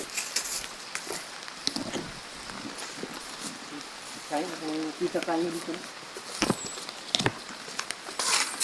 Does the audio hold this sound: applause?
no